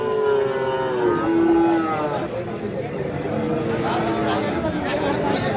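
Friesian cross bull calves moo at a busy rural cattle market, one long low moo early followed by fainter calls, over a murmuring crowd and someone talking.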